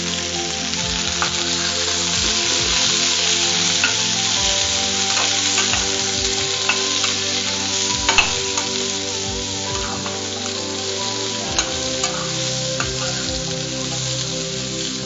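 Cut vegetables sauté with a little turmeric in a pan, giving a continuous close sizzle and fry with occasional stirring scrapes and clicks; no voices.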